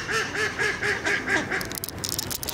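Ducks quacking on the water, including a white albino duck, a rapid run of about seven loud nasal quacks close by, followed by fainter scattered sounds.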